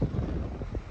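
Strong wind buffets the microphone outdoors along old Route 66 in Illinois, a steady low roar that swells and gusts loudly throughout the short moment.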